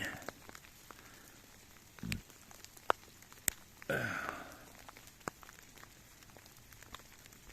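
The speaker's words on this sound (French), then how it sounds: "La grêle se transforme en pluie." Steady rain hissing with scattered drops tapping close by, and a brief louder rush of noise midway, as hail turns to rain on a mountain hike in the Vosges.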